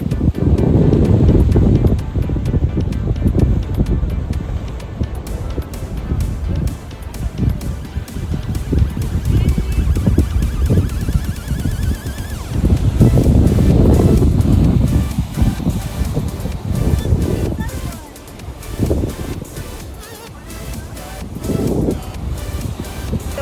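Strong cold wind at a beach in Cyprus buffets the microphone in a steady roar, with surf rumbling underneath and gusts rising and falling throughout.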